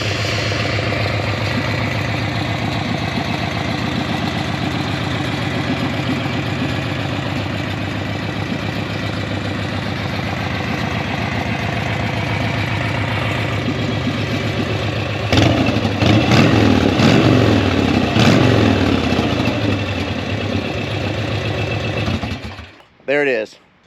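A Harley-Davidson Dyna motorcycle engine idles loud and close with a steady, lumpy beat, swells briefly with a few blips of revving, then cuts off near the end.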